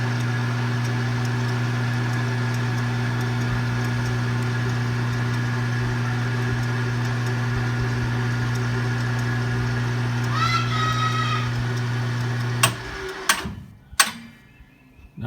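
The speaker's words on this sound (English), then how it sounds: "I turned the lathe on and spun it because I couldn't just pull this thing off." A lathe spins a press-fit fan motor shaft with a steady, droning electric hum and whine, then winds down and stops, followed by a few sharp knocks and clunks.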